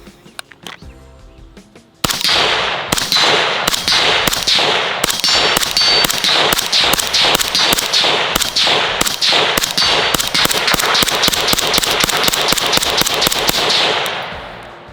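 Rifle shots through a HuxWrx Flow556k suppressor, a long string of sharp, loud suppressed cracks fired in rapid rhythm for about twelve seconds, each with a brief ringing tail, after a quiet lead-in.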